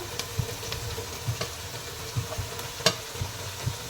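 A chicken biryani mixture with mint and coriander being stirred in a pan: soft scraping strokes recur every half second or so over a low steady sizzle, with one sharper clink partway through.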